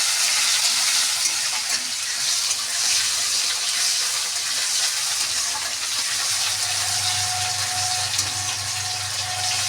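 Chopped tomatoes frying in hot oil give a steady, close hiss and sizzle that runs unbroken throughout, with a faint low hum underneath and no voices.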